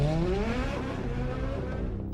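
A Ferrari F430 sports car roars past at speed, its engine note sweeping down in pitch with a hint of tyre squeal, loud and close over about two seconds with no voices.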